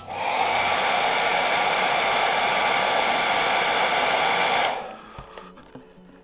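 A heat gun blows hot air onto a Kirby Classic III vacuum bumper, a loud, steady rushing hiss that runs for several seconds and then cuts off abruptly, leaving faint handling clicks.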